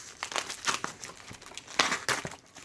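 Crinkling and tearing bursts of paper and heavy tape come in quick irregular handfuls as a package of records is unwrapped, close by and fairly loud.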